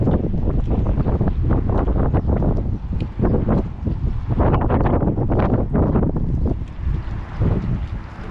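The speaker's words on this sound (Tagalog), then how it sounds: "Malakas na po yung hangin." Strong wind at the seashore buffets the microphone in loud, rumbling gusts that swell and ease, with a faint wash of surf underneath.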